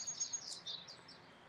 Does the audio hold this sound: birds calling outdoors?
yes